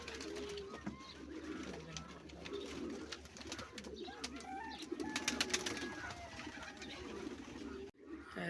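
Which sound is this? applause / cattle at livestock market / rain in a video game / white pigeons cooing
white pigeons cooing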